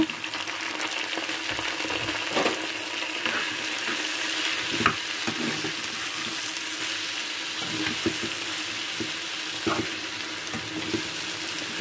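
Water spinach tossed into a pan of browned fried onions, frying with a steady broadband sizzle and occasional stirring scrapes and clicks throughout, close and moderately loud with no speech.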